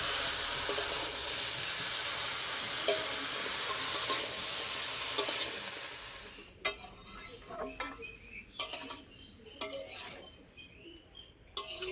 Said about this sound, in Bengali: লাউর উপরে অল্প পরিমাণে নুন দিয়ে দেবো। আমি নেড়ে নেব একটু